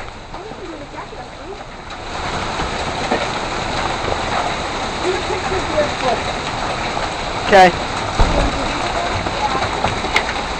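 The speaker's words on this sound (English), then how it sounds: "it is hailing like heck" Hail coming down hard in a June hailstorm by a boat, a dense, steady hiss of pelting ice that thickens after the first seconds, with a brief spoken word near the start.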